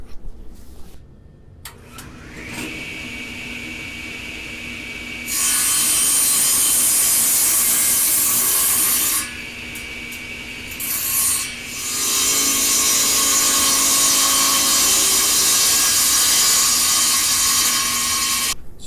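A hand saw cuts through a wooden block meant to mount a woodworking vise, loud rasping strokes in two long sustained stretches separated by a short pause, with close, gritty tooth-on-wood friction.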